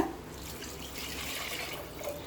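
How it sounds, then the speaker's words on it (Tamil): Water poured into a pan for kuska rice, a continuous close splashing, trickling pour that runs steadily for the whole short moment with no voices. "இப்போ 3 கப் தண்ணி சேர்த்துக்கலாங்க."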